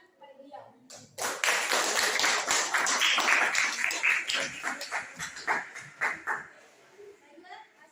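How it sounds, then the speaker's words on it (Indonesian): Clapping from a group in a youth congress scene of a student short film, rising suddenly into a dense burst of applause with some voices mixed in, then thinning into scattered claps before fading. "beri tepuk tangan kepada beliau"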